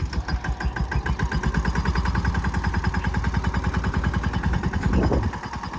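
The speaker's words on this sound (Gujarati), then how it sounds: "હવે વાવવાની શરૂઆત કરી છે આપણે ટ્રેક્ટરથી" A mini tractor engine chugs steadily at idle with a fast, regular knocking rhythm, loud and close, running throughout without pause while sowing sorghum.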